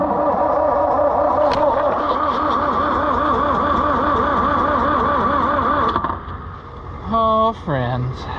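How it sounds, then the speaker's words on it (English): The starter cranks an old Oliver 1355 tractor engine with a loud, steady, rhythmic churning that lasts about six seconds and then stops. A couple of short tonal mechanical bursts come right after, all close up. "the old starter may not be cranking her fast enough to really get what we're after"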